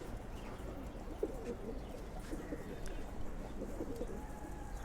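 Silver pigeons cooing softly at close range, low repeated coos with a few faint chirps over steady background noise.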